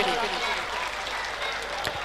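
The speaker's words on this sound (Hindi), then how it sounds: "तालियां बजाएं अमरा राम जी के लिए।" Audience applause for a guest introduced at an evening community event, a steady wash of clapping that runs the whole stretch at moderate distance, with faint voices mixed underneath.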